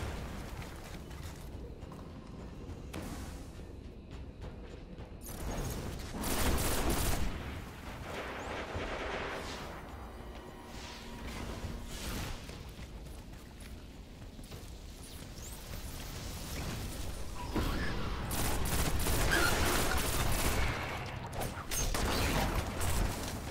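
Gunfire in a shooter video game aimed at the player, a steady barrage of booming shots and mechanical rattles running throughout at fairly close range over a continuous game soundscape.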